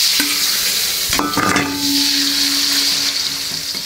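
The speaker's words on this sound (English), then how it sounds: "First, stir fry the chicken." Chicken pieces stir-fried in a wok, a loud steady sizzle broken by scraping and clanking of the spatula against the metal.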